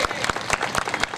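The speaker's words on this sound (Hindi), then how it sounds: "सबसे पहले मैं आप सभी लोगों के लिए तालियां आप ही लोगों से दिलवाना चाहता हूं" A crowd at an evening gathering in Prayagraj celebrating Babasaheb Ambedkar gives a short burst of applause, dense rapid clapping close by.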